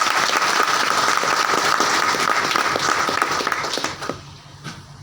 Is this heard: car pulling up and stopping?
no